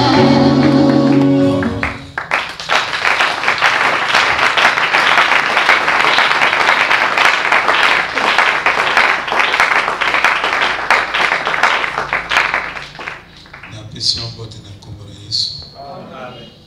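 A church congregation applauds at a worship service, producing a sustained, dense roar of clapping close around for about ten seconds that tapers off, with voices and singing before and after.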